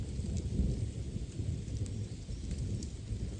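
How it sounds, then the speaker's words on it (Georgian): Low rumbling thunder rolls continuously outdoors at night near a moss-covered hut, with faint patter of light rain above it. "ახლაც ქუხილია."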